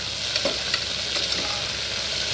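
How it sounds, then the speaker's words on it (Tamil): Chopped onions sauté in hot oil in a pan for mushroom biryani, giving a steady, close sizzle with faint crackles and light stirring throughout. "வெங்காயம் சேர்த்துக்கோங்க நல்லா வதக்கி விடுங்க"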